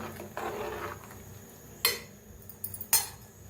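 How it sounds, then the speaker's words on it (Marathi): A spoon stirs and mixes masala rice in a pot, giving soft scraping strokes and a couple of sharp metallic clinks against the rim, quiet and close. "तर एकदम मिक्स करून घेऊया"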